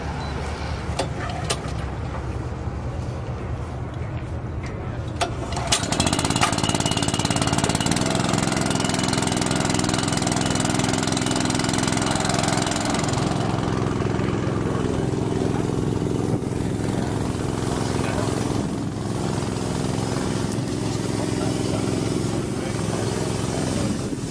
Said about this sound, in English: I'm going to go fire the pump up. We'll let it run a little bit.